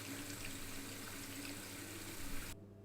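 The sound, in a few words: water rinsing developing film during wash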